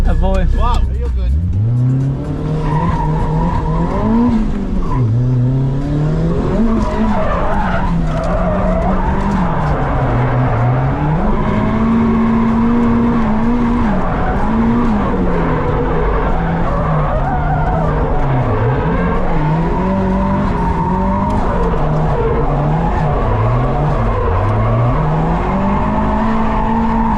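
A youth drift car slides around a track with barriers, its engine revving loud and wavering continuously while tires squeal through the slides, close and sustained across the whole lap.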